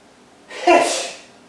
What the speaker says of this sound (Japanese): では通常のくしゃみの仕方から始めます。